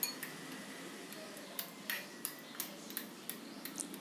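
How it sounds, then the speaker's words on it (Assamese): A ladle whisks sweet yogurt over ice cubes in a bowl, making faint, sparse clinks and taps of ice against the vessel at an irregular rhythm over a soft background hiss. "এনেদৰে ফেটি ল'ব পাৰে হাতাৰে"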